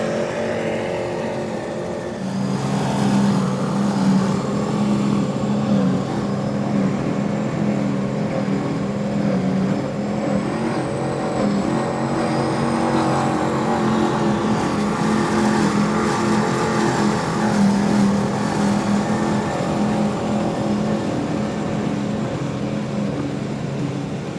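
A 42-foot racing powerboat with twin Mercury Racing 1100 engines runs at the Key West Poker Run, a loud sustained engine roar with wind and water rush that holds steady for the whole stretch, no talk.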